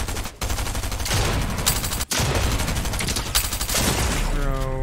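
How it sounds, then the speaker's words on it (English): Rapid, loud gunfire in a shooter video game, with dense bursts of shots and a brief voice near the end. "there goes my last shotgun bullet"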